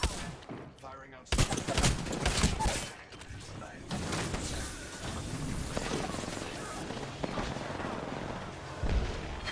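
Gunfire in a squad-based shooter video game: loud bursts and rapid volleys of shots with heavy blasts, alternating with quieter stretches of ongoing distant firing, while a person talks over part of it.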